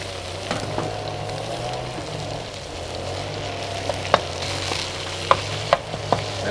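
Minced pork sizzles loudly in a hot wok with crispy garlic, a steady close frying hiss broken by sharp clicks and scrapes of a utensil toward the end.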